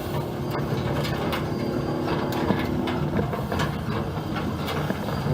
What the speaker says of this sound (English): Rattling and banging because a lot of stuff is bolted on fairly loose.